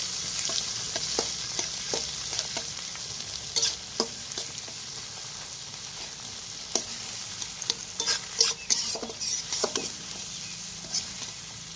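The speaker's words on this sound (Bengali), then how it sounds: "এবার পেঁয়াজটাকেও ভালো করে ভেজে নেবো।" Onions sizzle and fry in a pan alongside already-fried carrots, with a steady crackling hiss and repeated scraping stirs at an uneven rhythm, close and moderately loud with no talking, while flattened rice pulao is cooked Bengali style.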